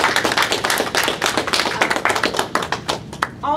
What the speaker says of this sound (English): I want to give you guys a big round of applause for that encouragement.